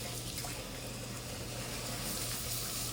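A kitchen tap runs in a soft continuous stream while a child washes hands, faint and even throughout, with no talking.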